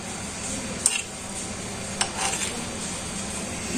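Dried fish bharta with onions mixed together in a bowl, giving soft stirring and scraping with a couple of sharp clinks of a utensil against the dish, fairly quiet and with no voices.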